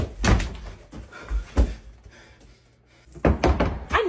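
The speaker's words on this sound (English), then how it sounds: "Wait, don't shut the door." A classroom door shuts with a couple of heavy thunks and knocks, loud and close, separated by a quieter stretch of room noise, with no talking during the sounds.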